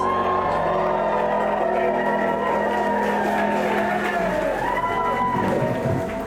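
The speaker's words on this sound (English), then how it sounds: "make lots of noise for the brand new Mr. and Mrs. Atkins." Wedding guests cheer and clap loudly and continuously, with whoops rising over music playing in the background.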